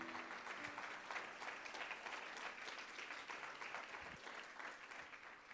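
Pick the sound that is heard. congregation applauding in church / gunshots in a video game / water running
congregation applauding in church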